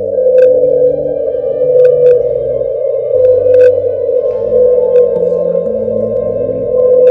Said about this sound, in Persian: به صدای تنها ترین نهنگ جهان گوش کنید.